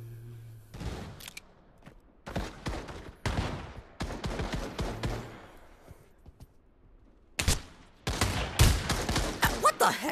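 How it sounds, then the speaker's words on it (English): Repeated gunfire in the Pavlov VR shooter game as a British soldier: sharp bursts of shots in several loud clusters across the clip, with short gaps between volleys and no talking. "I fired my gun and I died"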